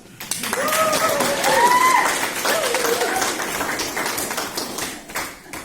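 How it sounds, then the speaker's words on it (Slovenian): An audience at a parish Caritas gathering breaks into steady applause, a dense wash of clapping that swells and then tapers off over several seconds, with some voices mixed in. "dajmo mu en aplavz"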